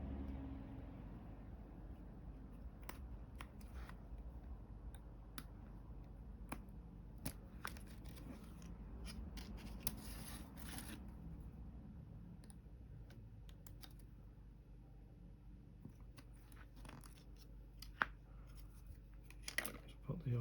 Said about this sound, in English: So I'll cut that B5 out as well, which bit is the countertop.